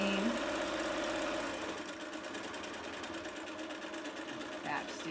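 Sewing machine stitching an edge seam on a fabric face mask, a steady fast mechanical chatter running throughout, loud at first and slightly softer after a second or two.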